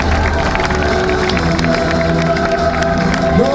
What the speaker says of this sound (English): they ought to be applauded as well